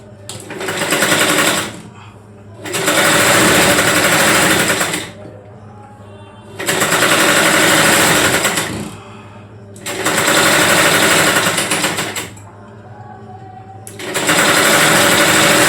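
An electric sewing machine stitches a fabric strip in loud, fast whirring bursts of a second or two each, five runs separated by brief quiet pauses, recorded up close with faint talking in the gaps.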